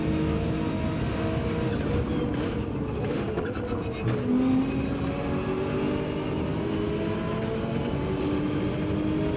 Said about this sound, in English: the BRZ sound is really menacing